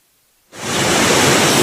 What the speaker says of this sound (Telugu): వర్షాల ప్రభావంతో మున్నేరు వాగు ఉధృతంగా ప్రవహిస్తుంది